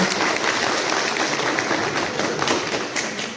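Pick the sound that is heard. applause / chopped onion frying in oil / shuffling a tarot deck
applause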